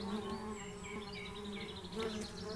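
Honeybees buzzing around the hive, a dense continuous drone from many insects close by, with individual bees passing near the microphone.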